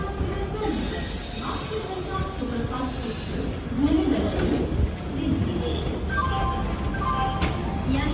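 A train at Mangalore railway station, a steady low rumble and hiss of the engine and carriages filling the platform, with people talking faintly in the background.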